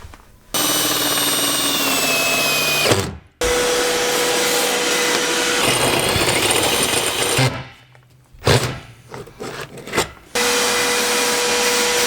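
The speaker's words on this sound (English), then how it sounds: "next step, drilling out those holes" A power tool whines loudly in sustained bursts, stopping and starting several times with short quiet gaps and brief clattering in between.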